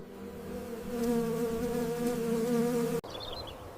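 Steady, droning buzz of bees in flight, close and continuous for about three seconds, then cutting off abruptly into quieter background hum.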